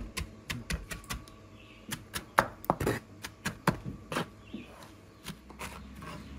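A knife finely chops a large hot chili pepper on a board for a tuna and apple salad, a quick run of sharp close taps in an uneven rhythm.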